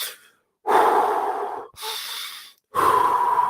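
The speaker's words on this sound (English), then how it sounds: "do some real deep breathing" Deep human breathing, three long, loud, close breaths: a deep inhale, a softer breath, then another strong inhale, separated by short silences and with no speech.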